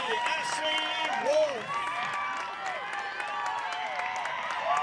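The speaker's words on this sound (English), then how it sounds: "as you can hear the crowd rumbling along" At a girls' high school soccer sectional final in Oregon, a crowd cheers after a header goal from a corner kick. The rumble is broad and fairly distant, and a commentator talks over it throughout.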